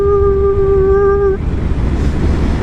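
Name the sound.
wind noise while riding a Yamaha FJR motorcycle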